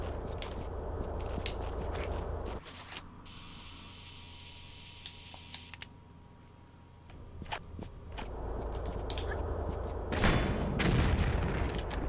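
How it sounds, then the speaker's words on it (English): Gunfire from a gunman in Tomb Raider 3 Gold: The Lost Artifact, a series of sharp bursts and booms over steady game ambience, with a quieter stretch in the middle before the shooting resumes. "be careful, because this gunman will shoot you"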